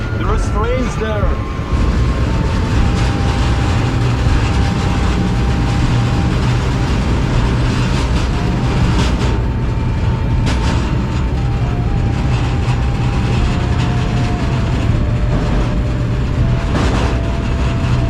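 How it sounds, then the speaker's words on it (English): Trains at a big railway station, a loud continuous rumble of rolling stock with squealing wheel tones, nearby and ongoing, while a person talks over it. "There are trains there."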